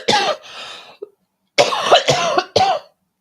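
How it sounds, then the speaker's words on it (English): Several loud, close coughs in two clusters with a short pause between them, harsh and throaty. "obviously I'm coughing more"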